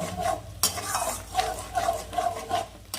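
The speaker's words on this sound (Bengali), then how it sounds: "এবার আমি এটাকে আরেকটু কষিয়ে নিব" Spice paste with yogurt and salt stir-fried in a pan, a spoon scraping and stirring in repeated rhythmic strokes over a soft sizzle, close and fairly loud, with an occasional clink of utensil on metal.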